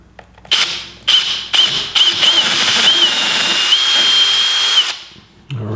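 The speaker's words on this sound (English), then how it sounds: "I'm gonna drill a very small hole through the center of that" A power drill whirs in several short bursts, then runs steadily for a few seconds before stopping, loud and close, drilling a very small hole through a wooden pendant.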